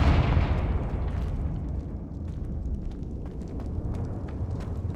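A Confringo fire spell blasts in Hogwarts Legacy, a loud rumbling explosion that starts strong and rolls on as a dense crackling, booming roar for several seconds, alone with no talk.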